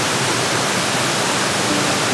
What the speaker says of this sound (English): this is one of the favorite waterfalls I've ever been to